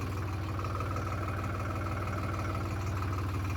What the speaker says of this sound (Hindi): ये मैं ट्रैक्टर चला रहा हूँ।